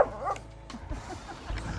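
A dog barking indoors during a snowy winter road trip on the Gaspé Peninsula, a few short yips and barks in quick succession, near and moderately loud with a small whimper between them.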